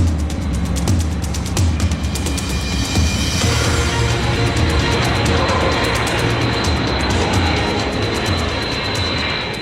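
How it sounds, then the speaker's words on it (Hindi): F-35 fighter jet flies past with a loud continuous engine roar and a broad rushing tone that stays strong throughout, with a sharper whine early on. "F-35 fighter jet"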